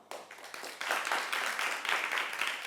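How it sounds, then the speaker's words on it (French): Scattered applause from a family holiday show audience voting on a Christmas tree, building into a steady, moderately loud patter of clapping after a brief quiet start. "Quelques applaudissements."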